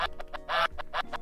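Rapid honking goose sound alert on a livestream, a quick burst of loud nasal honks in uneven succession, close and alone.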